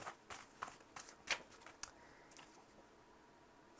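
Tarot cards are shuffled in a quiet room, giving a soft, faint run of papery riffles and flicks in irregular bursts that fade into near silence.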